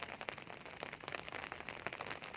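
Light, fine rain falls steadily outdoors in Bhatiya, a soft continuous patter of small drops, faint and close.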